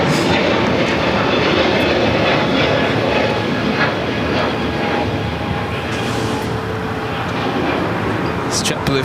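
JetBlue Airbus A321neo jet at Los Angeles LAX airport, a loud broad engine roar filling the air continuously, with people talking nearby.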